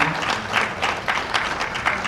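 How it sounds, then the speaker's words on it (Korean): Audience applause fills a hall at a corporate ESG award ceremony, a steady dense clatter of many hands lasting about two seconds, with no speech over it. "여러분 큰 박수 다시 한번 보내주시기 바랍니다"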